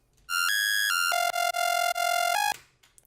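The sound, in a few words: synth bass preset with envelope-mode LFO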